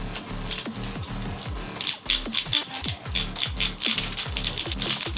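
Plastic teeth of a Hasbro Pro Series Beyblade launcher clicking. Rapid, repeated close-up ratcheting clicks and scrapes come in bursts, fairly loud, with no talk.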